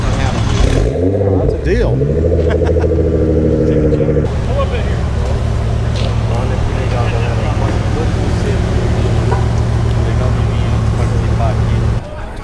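A Bugatti supercar's engine hums loud and close as it is parked in a parking lot at the SEMA 2018 show, with a deep steady drone and brief revving, while people talk nearby.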